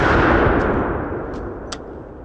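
An AR-15 rifle fires outdoors, leaving a loud, broad booming tail that slowly decays, with a few faint high clicks after the shot.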